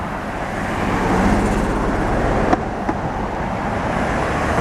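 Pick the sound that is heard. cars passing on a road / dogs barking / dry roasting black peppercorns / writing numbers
cars passing on a road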